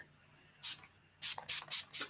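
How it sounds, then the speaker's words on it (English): Coconut-scented body spray hisses from an aerosol can in one short burst, then a quick series of three or four bursts, close and fairly loud in a quiet room. "Have you smelled this coconut spray?"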